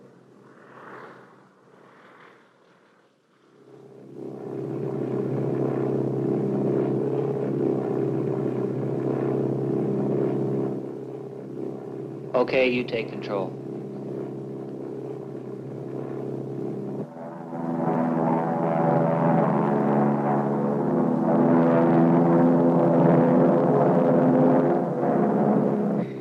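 A T-41 training airplane in flight, a steady droning propeller engine rumble heard from inside the cockpit that rises in pitch and loudness partway, with brief talk over it.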